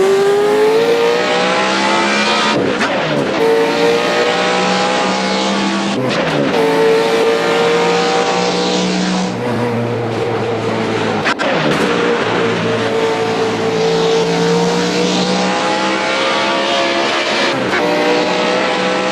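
Race car engine screaming around a track in a racing video game, a loud continuous high revving tone rising and dropping through gear changes and braking, with occasional tire squeal.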